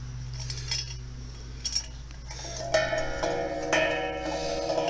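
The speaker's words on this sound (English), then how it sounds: "a handmade, wonderful wind chime, and it has that kind of a mellow, deep sound to it" Handmade wind chime with a mellow, deep tone hangs in a garden arbor beside a 1905 cottage, giving soft, scattered metallic rings and clinks over a steady low background hum, quiet and fairly close.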